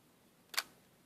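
A Pentax ME Super film camera fires its shutter once: a single sharp, close mechanical click against near silence.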